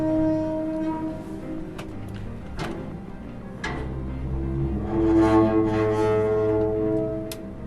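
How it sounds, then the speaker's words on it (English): Metallic scraping and tonal groaning from a garbage can lid being rubbed and twisted, with occasional sharp clicks, close and moderately loud. "it's just this. It's, you know, a garbage can lid"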